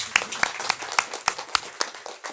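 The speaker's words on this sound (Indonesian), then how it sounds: "Tepuk tangan dulu untuk Kak Dila." An audience at a community gathering gives scattered, separate handclaps with a loosely rhythmic pattern, close and fairly loud, with a few people clapping rather than a full crowd.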